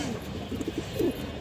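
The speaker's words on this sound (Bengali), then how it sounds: "কবুতরটা অনেক চঞ্চল, ও শুধু যাওয়ার জন্য জায়গা খুঁজতেছে" A restless, high-quality female pigeon for sale gives short, soft coos, a few brief throaty pulses near the end, heard close over faint background hiss.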